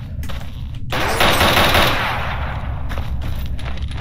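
An M4 rifle fires in the shooter game Stalker Anomaly. One loud, close burst of rapid automatic shots lasts about a second, followed by echoing ambience.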